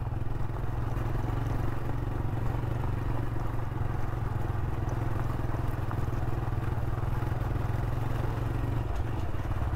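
A motorcycle rides along a road in Konkan, its engine holding a steady, low, rumbling drone with wind buffeting throughout, close and constant for the whole stretch, with no talking.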